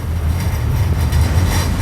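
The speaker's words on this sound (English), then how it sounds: "Now we have a train coming back over to the Harbour Bridge," A train crossing the Sydney Harbour Bridge makes a loud, steady rolling rumble with faint rhythmic clatter from the wheels, heard up close with no voices.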